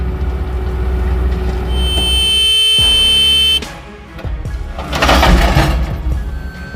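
Loud sustained horn blast from a heavy haulage truck carrying an oversized load, a steady tonal blare for several seconds that cuts off, followed by rumbling engine and road noise.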